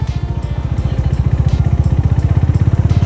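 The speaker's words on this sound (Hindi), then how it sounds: "यहाँ देखिए बाइकर्स का जमावड़ा" Motorcycle engines at a roadside gathering of bikers in India give a steady, rapid low thumping idle throb, close and fairly loud, with no talking.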